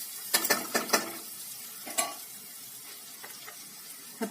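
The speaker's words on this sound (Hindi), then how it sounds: "फिर डाल देंगे प्याज, इसे भूनेंगे" Onions frying in a pan for stuffed tomatoes, a quick burst of clattering stirring strokes at first, then a quieter low sizzle with a few scattered scrapes.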